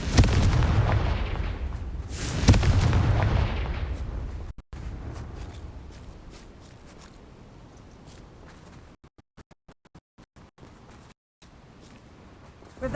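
Fiery spell blasts in the Hogwarts Legacy video game: two loud booming bursts in the first few seconds with a rumbling tail, then a quieter stretch of scattered crackles and rustling.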